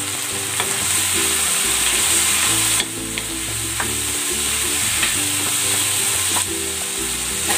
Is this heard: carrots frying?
yes